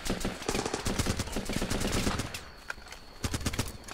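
Rapid bursts of automatic rifle fire and single gunshots in the combat shooter Running with Rifles, loud and close, crackling in quick clusters, with a short lull before another burst.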